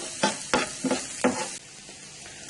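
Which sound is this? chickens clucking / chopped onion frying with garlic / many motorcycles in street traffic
chopped onion frying with garlic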